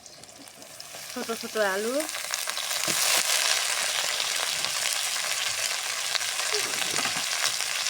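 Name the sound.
bitter gourd frying with onions in pan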